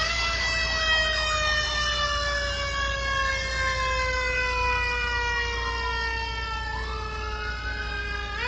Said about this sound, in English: Here's the sound that the fire truck makes.